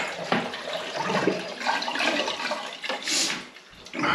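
A newly installed toilet in a freshly remodelled bathroom flushes and its cistern refills. Steady rushing, gurgling water runs close and loud throughout, with a brighter hissing surge near the end.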